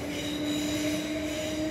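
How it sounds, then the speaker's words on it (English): A Class 444 fast electric train rushing through Clapham Junction, a loud, steady, continuous roar with sustained high wheel squeal tones, close by and without speech. "we've got a fast train coming through, which is a class 444"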